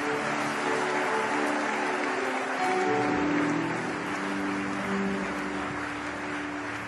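A church congregation applauds and cheers during a consecration service, a steady wash of clapping and voices that swells slightly midway and stays fairly distant throughout.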